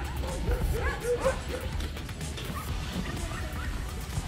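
Sled huskies in Svalbard bark and yip excitedly, eager to run, a cluster of barks close by at first and then scattered yelps, with people talking over them.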